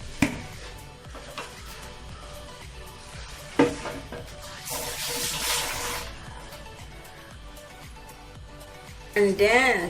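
A spoon works ragi and karupatty halwa around a nonstick kadai on the stove, giving soft scraping and sizzling with a louder hissing stretch midway, while a voice talks throughout.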